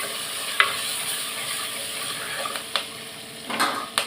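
Onion, garlic and curry leaves sauté in oil for a Tamil onion-garlic kulambu, giving a steady broad sizzle with a few sharp spoon scrapes and clicks against the pan, close and moderately loud, no talking.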